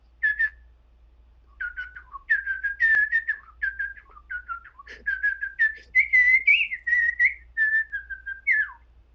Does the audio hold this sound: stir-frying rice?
no